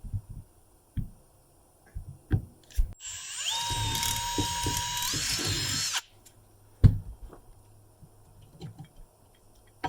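A power drill bores a hole in the foot of a Thule roof rack, one steady whining burst lasting a few seconds, close and loud, with clanks and handling knocks before and after.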